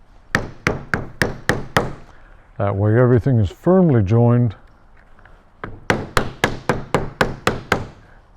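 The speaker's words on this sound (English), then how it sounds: "I like to give it a little persuasion with the dead blow hammer" Dead blow hammer striking an assembled leather holster in the workshop, firm regular thuds in two bursts of about six and ten blows, with someone talking between them.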